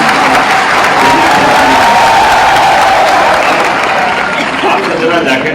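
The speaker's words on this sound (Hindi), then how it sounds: "इनके लिए ताली बजाओ" An audience at an agricultural innovation dialogue event in Bhopal gives loud, sustained applause, with a dense wash of clapping and some crowd murmur lasting several seconds.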